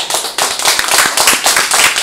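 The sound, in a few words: audience clapping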